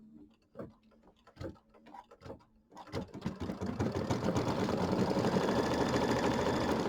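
A few soft ticks and clicks come first, then an embroidery machine starts sewing a decorative stitch, building into a steady, fast mechanical whirring and clatter that runs loud to the end.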